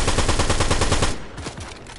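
Rapid SMG gunfire in the Fortnite video game rattles in a dense, loud burst, then continues as a slightly softer, steady stream of shots for about two seconds.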